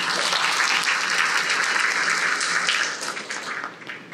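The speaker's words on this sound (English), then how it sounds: "So please give her a round of applause." A conference audience at a leadership event applauds a keynote speaker, dense sustained clapping that holds steady and then begins to thin and fade toward the end.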